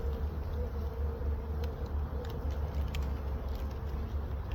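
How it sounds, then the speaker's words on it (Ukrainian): A bee trapped inside a hive trap gives off a faint, steady buzzing drone close by, over a low background rumble. "От дурна бджола залетіла"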